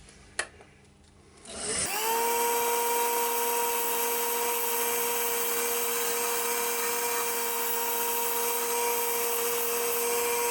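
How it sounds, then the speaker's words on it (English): A wood lathe spins up and runs at a steady, loud hum while a tool makes very gentle scraping cuts on yew wood. The cutting noise is barely separable from the constant motor tone. "I'm using this more or less on its side now, just using like the bottom edge. Very, very gentle scraping cuts"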